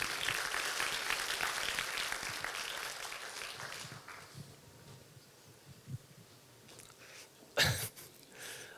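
Applause from a church retreat congregation rolls on for about four seconds and then thins out into scattered claps, a cough and room noise, with a sharp burst near the end.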